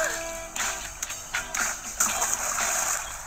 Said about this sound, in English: Or does she just keep on splashing?